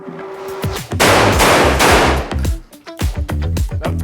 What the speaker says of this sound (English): 500 round shotgun burn down.